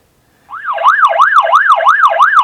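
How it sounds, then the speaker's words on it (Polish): An LSC solar security camera's electronic siren starts abruptly and wails steadily in fast, repeating rising-and-falling sweeps, loud and close, with no other sound. "włączenie tej syreny łącznie ze światłem mrugającym"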